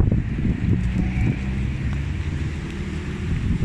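Strong outdoor wind, a continuous low roaring rush across the microphone with no speech, steady and fairly loud throughout.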